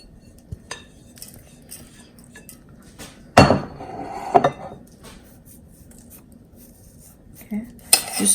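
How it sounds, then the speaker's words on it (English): Cheesecake crust mixture gets pressed and flattened into a Fat Daddios pan for an Instant Pot New York-style cheesecake, giving scattered light scrapes, taps and a few sharper clanks of utensil against metal, close up, with talk partly underneath. "just want to take the mixture and just flatten it so it's really nice and packed in there"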